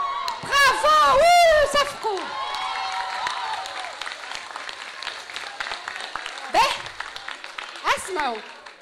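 An audience claps and cheers, with loud voices over the start, then the applause settles into a steady wash that continues to the end, broken by brief shouts.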